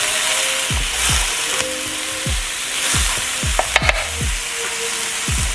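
Vegetables fry steadily in a hot, smoking pan with a loud, continuous sizzle, broken by a regular series of short scraping stirs and a couple of brief clinks near the end, with no voices.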